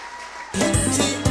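After a quiet moment, a crowd at a political rally in a school breaks into applause, a dense burst of clapping that carries on steadily.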